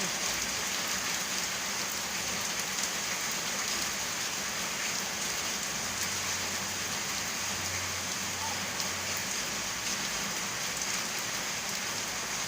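Heavy rain pours down steadily and loud, a dense, unbroken hiss of drops drumming on surfaces close by, with a low rumble underneath and no voices.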